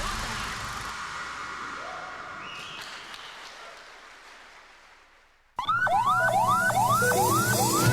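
An ambulance siren wails, rising and falling in repeated sweeps, loud and close, after a quieter fading stretch of background sound.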